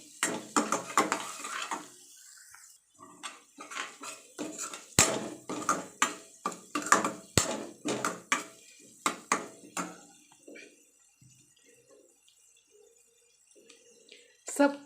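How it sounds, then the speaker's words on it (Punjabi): A spoon scrapes and clinks rhythmically against a bowl while stuffing ingredients for stuffed capsicum are mixed, a steady run of close metallic knocks with someone talking before and after. "ਹੁਣ ਅਸੀਂ ਇਹਨਾਂ ਸਾਰੀਆਂ ਚੀਜ਼ਾਂ ਨੂੰ ਮਿਕਸ ਕਰ ਦੇਵਾਂਗੇ"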